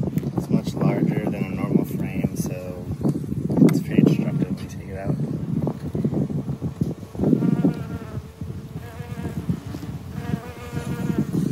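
Bees swarm around a beehive, a dense, loud buzzing that rises and falls close to the microphone, with people talking over it.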